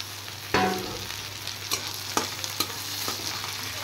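Onion and chopped tomato fry in a pan with a steady sizzle, broken by several sharp stirring scrapes and knocks; close, with no talking.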